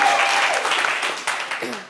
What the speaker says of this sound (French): On peut applaudir un peu